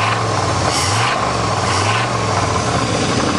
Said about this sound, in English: This thing definitely has some rod knock and crank knock.